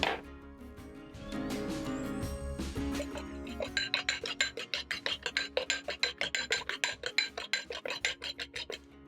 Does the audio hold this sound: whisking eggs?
yes